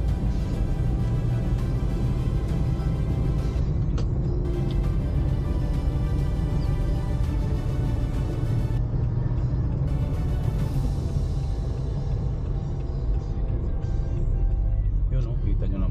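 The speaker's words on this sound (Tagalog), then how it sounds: "Talagang puro mga dam truck dito." Heavy road traffic with dump trucks rolling along Dammam Road at night, a constant low rumble of engines and passing vehicles throughout, with faint gaps in the upper hiss as trucks go by.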